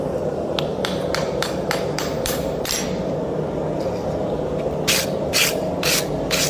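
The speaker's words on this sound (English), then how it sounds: "Blending out the weld." Hammer blows blending out a forge weld on a Viking Dane axe, a run of sharp, ringing metallic strikes in a quick series, a short pause, then a few more heavy hits over a low shop rumble.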